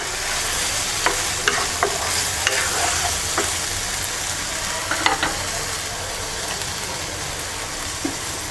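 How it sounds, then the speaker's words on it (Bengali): Hilsa fish sizzles in hot oil in a pan, a steady loud frying hiss broken by occasional clicks and scrapes of stirring. "এবার এর মধ্যে মাছ দিয়ে দিচ্ছি।"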